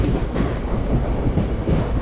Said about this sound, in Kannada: ಇವಾಗ ಪ್ರೆಸೆಂಟ್ಲಿ ಇರೋದು ದಾದರ್ ರೈಲ್ವೆ ಸ್ಟೇಷನ್